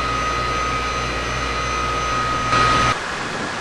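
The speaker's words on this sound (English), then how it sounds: "To provide enough oxygen for the microbes, we have 14 high-capacity blowers" Bank of high-capacity air blowers at a wastewater treatment plant, a loud steady mechanical roar with a sustained high whine on top, continuous throughout, with a brief surge in intensity near the end.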